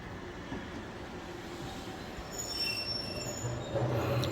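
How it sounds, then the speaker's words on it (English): A train pulls into a station with its wheels squealing, a steady rolling rumble carrying high metallic squeals that grows louder toward the end, with no talk over it. "This train is arriving at the station."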